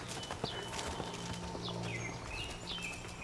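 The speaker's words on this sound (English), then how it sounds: "that's a canter if I ever seen a canter, and a really nice smooth one" A saddled horse canters smoothly, its hoofbeats thudding in a steady rolling rhythm close by, with faint birdsong chirping over the top.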